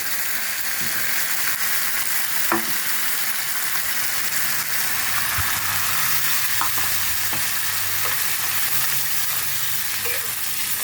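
Spice paste for a Bengali doi begun (yogurt eggplant) dish fries in a pan with a little water, giving a steady, close sizzle and bubbling that runs throughout, with occasional stirring clinks.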